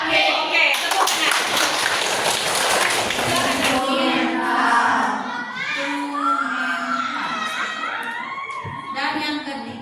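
A group of young children clap their hands together in a classroom setting, the broadband clapping dense over the first few seconds then continuing under excited children's voices and chatter.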